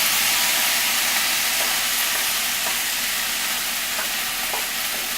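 Rice for fried rice tumbles into hot oil in a pan, giving a continuous loud, close hiss and sizzle with faint scraping, steady throughout and free of talk.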